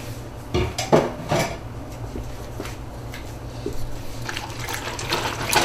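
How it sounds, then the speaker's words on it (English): Canned tomatoes going into a pot of turkey chili with beans, heard as close clinks and clatters of a utensil against the pot and a few wet splashes, then softer stirring scrapes. "Next, you put in your tomatoes."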